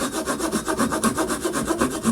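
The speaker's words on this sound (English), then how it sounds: "I'm going to make my dive bib out of this tongue depressor. So I'll cut off about 1 inch" A wooden tongue depressor being sawn by hand, cutting off about an inch for a lure's dive bib; steady back-and-forth rasping strokes, close and alone with no talk.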